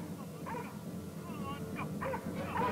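Several dogs yip and bark in short bursts while harassing buffalo on open grazing land, the barks fairly distant and under a narrator's voice.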